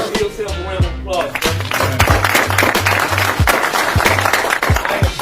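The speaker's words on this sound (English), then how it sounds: "Give yourself a round of applause." An audience at a Marcus Garvey commemoration claps and cheers in a sustained round of applause. A steady rhythmic low beat runs underneath the clapping.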